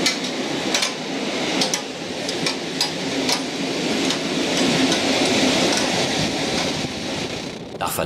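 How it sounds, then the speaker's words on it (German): A regional train runs on the Frankenbahn line near Bietigheim-Bissingen, a continuous rumble heard from on board with sharp rhythmic clicks and clacks from the rails, steady and close. "Nun fahren wir weiter mit einer Regionalbahn."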